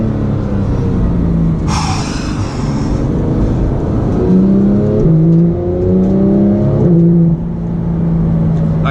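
A 2017 Porsche 911 GT3 engine revs hard, then drops through a series of sharp downshifts with rising and falling pitch, loud and close, with no talking.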